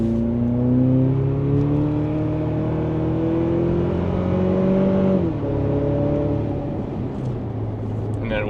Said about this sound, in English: We're gonna give you just some interior sounds. I'm gonna drive down the road.